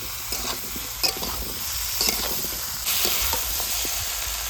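Vegetables frying in a pan with ginger paste and turmeric, a steady close sizzle with intermittent scraping and stirring clatter throughout.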